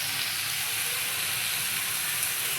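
Tomato chutney made with garden tomatoes sizzles and bubbles in a covered pan, giving a steady, dense frying hiss throughout without pause.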